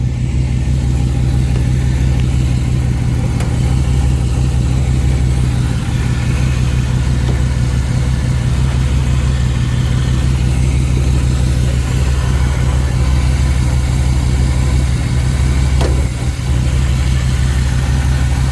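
A chopped 1934 Ford three-window coupe with a 5.7 V8 and Edelbrock aluminum heads idles steadily, a loud, close, even rumble that stays smooth throughout with no voices.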